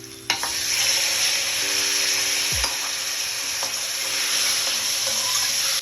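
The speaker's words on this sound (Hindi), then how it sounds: "अब ये जो बॉयल मटन है ये शामिल कर देंगे लैम्ब का।" Boiled lamb meat tipped into a pot of golden-browned onions with green cardamom, frying for a yakhni pulao; a steady close sizzle with stirring, a brief thump as the meat drops in, no talking.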